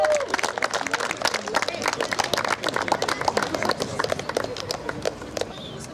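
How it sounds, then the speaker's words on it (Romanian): Brisk, uneven clapping from an outdoor movie-night crowd greets a third-place team at a prize giving, loud at first and thinning slightly near the end. "Aplauze! Bravo!"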